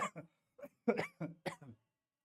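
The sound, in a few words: cough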